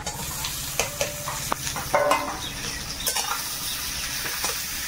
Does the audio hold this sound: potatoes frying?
yes